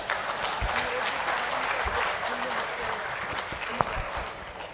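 An audience at a motivational speech on women's sensitivity bursts into sustained clapping, a dense, continuous patter heard from within the hall, with a faint voice and a few sharp knocks underneath.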